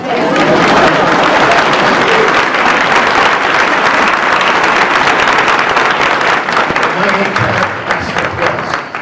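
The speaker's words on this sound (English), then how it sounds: "Please, may I have some applause?" Loud, dense audience applause fills the space, a sustained wash of clapping that thins out slightly toward the end.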